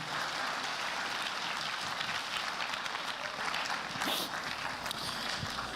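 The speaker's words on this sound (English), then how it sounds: "let's give these guys a round of applause." A high school audience at Hemphill High School gives student presenters a round of applause, a steady wash of many hands clapping at moderate distance and fairly soft level throughout.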